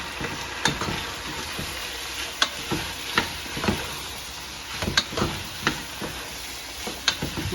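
Fried chicken pieces sizzling and frying in a pan of chilli chicken sauce, a steady crackle broken by repeated sharp clacks of stirring, close and moderately loud with no talking.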